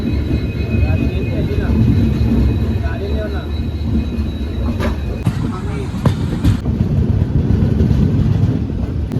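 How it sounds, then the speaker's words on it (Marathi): A train rumbles along steadily with a constant low roar and rattle, loud and close from inside, with a few squeaks and faint voices. "चालली ट्रेन आपली घरी"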